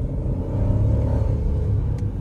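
A 2023/2024 Chevrolet Tracker LT with a 1.0 turbo engine accelerates, producing a steady low rumble and engine drone heard from inside the car, close and continuous, with a faint brief click near the end.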